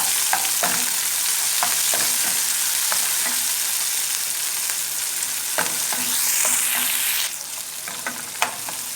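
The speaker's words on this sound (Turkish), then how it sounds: "Yanan yağımın içine biberimi attım. Biberi hafiften soteleyeceğim arkadaşlar." Peppers hiss and crackle in hot oil while being sautéed for a tomato sauce, a continuous sizzle with several sharp scraping stirs, the frying easing slightly toward the end.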